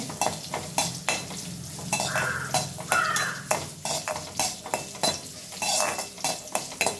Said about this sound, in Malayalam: കരിവേപ്പില, ഉണക്കമുളക്, പച്ചമുളക്, ചെറിയ ഉള്ളി, ഒരു വെളുത്തുള്ളി, ഇത്രയും സാധനങ്ങൾ വെച്ചത് നന്നായിട്ട് മൂത്ത് വരട്ടെ